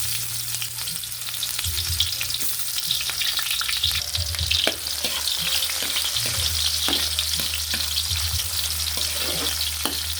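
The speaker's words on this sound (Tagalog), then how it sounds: "kumukulo na po yung ating mantika. Unahin na po natin tong ating sibuyas" Onions crackle and sizzle steadily in hot oil, a dense frying hiss with occasional stirring clatter, close and continuous throughout.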